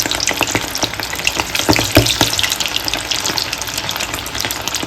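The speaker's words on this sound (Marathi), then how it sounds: "आता तेल गरम झालेलं आहे आता आपण एक तळून घेऊया" Chicken liver fries in hot oil, giving a loud, steady crackling sizzle with dense popping spatters that carries on unbroken and close up.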